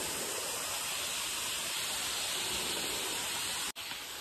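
Hidden waterfall near Nagpur roaring with a dense, steady rush of falling water, close and continuous before a brief cut near the end.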